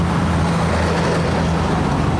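Morning traffic on a road in Grenada gives a steady, fairly loud rumble of passing vehicles, with a continuous low engine drone and no speech over it.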